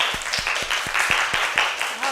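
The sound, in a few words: applause from a group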